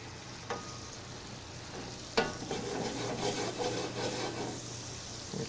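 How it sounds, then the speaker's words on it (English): Shrimp fry in a pan with a steady, close sizzle while tongs scrape and clack as they are turned, with a couple of sharp clicks and ongoing hiss throughout. "Got my tongs here. We're going to turn the shrimp, making sure they cook evenly."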